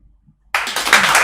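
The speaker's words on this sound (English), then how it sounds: "maybe another excitement and applause from the studio to thank Aline." A studio audience at a EuroHockey 2021 women's finals show bursts into applause after a moment of silence. The clapping is dense and loud and runs to the end of the clip.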